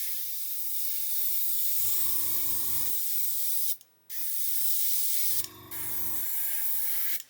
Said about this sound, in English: Do a quick test spray.